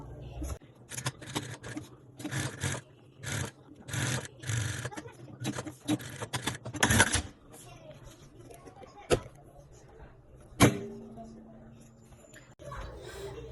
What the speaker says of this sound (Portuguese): Juntar e fazer uma costurinha daqui até aqui